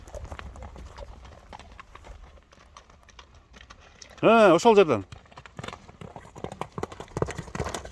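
A horse ridden at speed over open ground, with hooves clattering in a quick rhythm alongside a brief loud burst mid-clip and people talking throughout.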